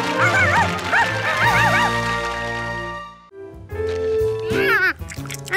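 Cartoon dog yipping and barking in a Curious George kids' cartoon, with a few excited barks early on and more after a pause, set over a bright music score.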